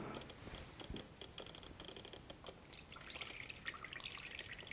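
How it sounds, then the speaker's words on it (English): Water used to wash rice is poured off and drained, giving faint close dripping and trickling with small irregular splashes that rise into a brighter splattering stream near the end. "we drain the water."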